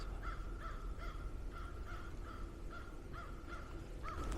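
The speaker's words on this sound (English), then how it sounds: "There's a crow in the background" A crow caws repeatedly in snowy woods, about nine evenly spaced harsh calls at moderate distance over a steady outdoor hiss.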